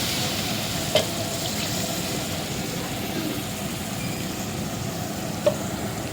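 Spice paste for a chicken curry sautéing in a pan makes a steady, loud, close sizzle that runs without a break, with two brief sharp clinks of a utensil.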